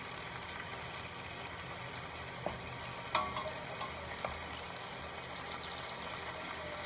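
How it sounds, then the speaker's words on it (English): Chicken pieces searing in a pan for smothered barbecue chicken, a steady low sizzle throughout with a few brief clinks and taps from utensils, no talking. "We're gonna let them sear on one side, and then we're gonna flip them over and cook them on the other side."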